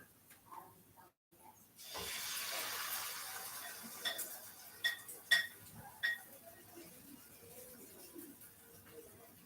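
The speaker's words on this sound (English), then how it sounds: "Try to pre-rinse whenever I can." A kitchen tap runs steadily while dishes are pre-rinsed, a soft hiss of water lasting several seconds, joined by a few light clinks and clatters, with faint voices at the start.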